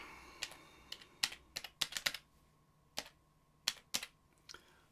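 Typing on a computer keyboard: a dozen or so sharp, separate key clicks in irregular bursts, close and fairly quiet with no talk.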